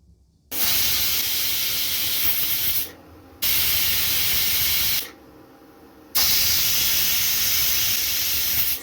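Pressure cooker on the stove whistling while cooking soaked chickpeas: three long, loud steady hissing whistle bursts, each lasting a few seconds with short quieter gaps between them, with no talking.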